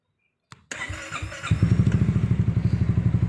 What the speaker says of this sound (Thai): นี่คือเสียงท่อ